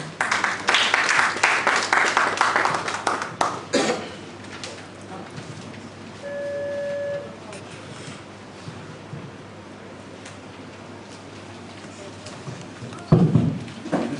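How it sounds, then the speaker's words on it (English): Audience clapping breaks out at the close of a research survey presentation, dense and loud for about four seconds, then tapers off into quiet room tone; a short burst of claps returns near the end. "Another round of applause for her."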